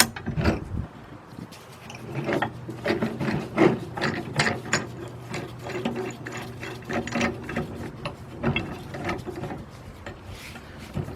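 Ratchet clicking as a ball joint press tool is tightened on the ball joint of a 1995 Ford Econoline E150, a steady series of sharp metallic clicks in repeated strokes, close up with no talk.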